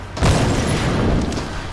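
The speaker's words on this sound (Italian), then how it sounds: "Sì, ha tirato un petardo" A firecracker blast in Tomb Raider Definitive Edition on PS4: one loud, close boom hits sharply and then leaves a rumbling, noisy tail for over a second.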